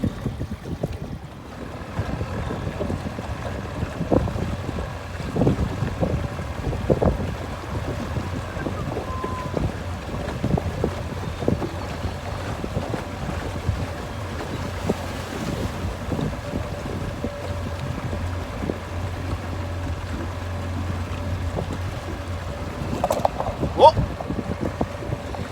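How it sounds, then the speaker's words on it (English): Wind gusts and waves slapping around a houseboat on a lake near Yellowknife, with a steady low engine hum beneath and occasional speech. "A little windy already. Big waves."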